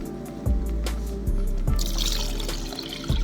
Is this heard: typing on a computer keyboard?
no